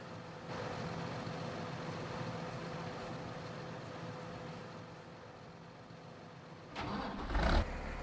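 A tractor engine drones steadily while pulling a cotton trailer in Farming Simulator 19, a constant low mechanical hum that swells into a brief louder surge near the end.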